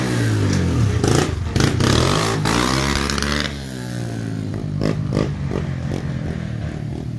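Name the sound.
Yamaha TTR 110 dirt bike with Pro Circuit pipe revving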